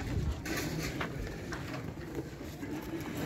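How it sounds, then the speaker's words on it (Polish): Low, soft cooing of pigeons from Hungary at a poultry market near Warsaw, over a steady background hum, with faint rustles and thumps nearby. "To są gołębie z Węgier"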